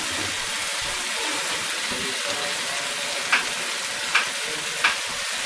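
Green chillies sizzle in a frying pan of mutton liver masala, a steady loud frying hiss with three sharp clinks of stirring near the end, no voices.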